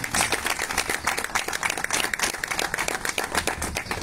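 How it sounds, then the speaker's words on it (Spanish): Audience applause at the inauguration of a women's centre in Las Varillas, a dense, steady burst of many hands clapping close by that runs through the whole stretch without pause. "Un aplauso para todos ustedes"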